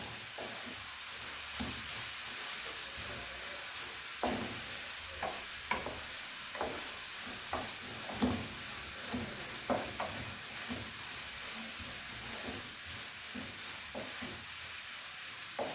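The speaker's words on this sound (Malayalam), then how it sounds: "ഉള്ളി സോഫ്റ്റായി വരുന്നവരെ നമുക്ക് എല്ലാം കൂടി നല്ല രീതിയിൽ ഇളക്കി യോജിപ്പിച്ച് കൊടുക്കാം" Onions being stirred and softened in a pan for a Kerala-style egg curry: a steady low sizzle with a string of soft spoon scrapes and knocks at irregular intervals, close and fairly quiet.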